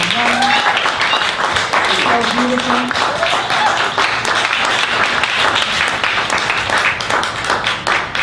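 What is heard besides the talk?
audience applause for dancers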